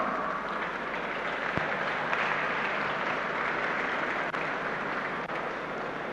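At a University of Port Harcourt convocation lecture in Rivers State, a large audience gives steady, unbroken applause, a dense wash of clapping that holds at an even level throughout.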